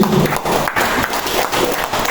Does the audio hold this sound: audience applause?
yes